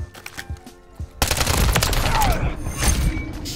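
Rapid gunfire from Modern Warfare 3 during a one-on-one match: a few scattered shots, then a sustained loud fusillade filling the rest of the moment, close and dense, with no talk over it.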